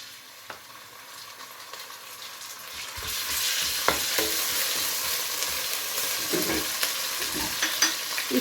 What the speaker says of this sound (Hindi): अब हम इसके अंदर शामिल कर देंगे लहसुन और अदरक का पेस्ट